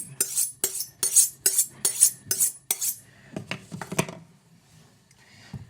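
A kitchen knife slicing potatoes by hand against a cutting board, a close, sharp series of rhythmic chops, then a few scattered clunks and softer taps as the cutting slows, with no speech.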